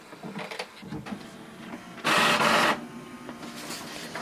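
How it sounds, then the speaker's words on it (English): An HP ENVY 5010 inkjet printer runs a black copy of one page, with a loud mechanical whirring burst in the middle, surrounded by quieter clicks and motor movements in a room. "So you can see it has copied one page"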